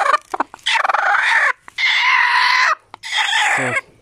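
Chickens on a backyard poultry farm cluck in several loud, close bursts, with a brooding hen among them, the calls coming in uneven clusters separated by short silences.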